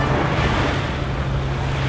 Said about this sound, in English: There's quite some turbulence here, caused by the tide.